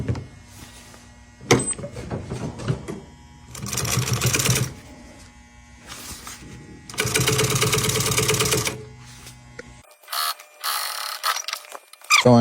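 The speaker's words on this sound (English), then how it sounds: "you just got to make sure they line up before you sew." A sewing machine stitches a boat sundeck pad cover in several runs of rapid mechanical whirring, close and loud, separated by pauses with fabric handling and quiet gaps, no talk.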